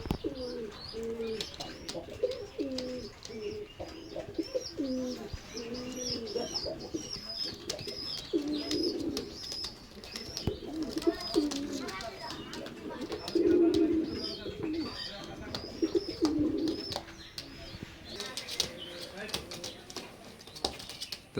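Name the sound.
Oman blood line teddy pigeons cooing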